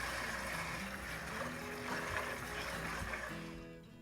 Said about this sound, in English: So first what I'm going to do is I'm going to rinse my sunchokes.